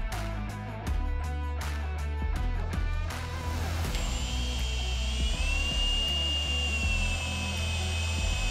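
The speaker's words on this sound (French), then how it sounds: "Avec une scie cloche, nous réalisons également l'ouverture pour évacuer des eaux de pluie" A hole saw on a drill bores a rainwater drain opening into a roofing gutter part, close and loud, with a grinding whine that settles into a sustained high-pitched squeal partway through.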